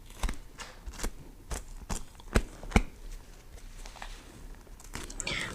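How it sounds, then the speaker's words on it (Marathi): A knife finely chops fresh coriander on a board in a series of sharp, irregular taps, close and fairly quiet, with faint background sound. "आईने कोथिंबीर घेतली आणि एकदम बारीक चिरून घेत आहे"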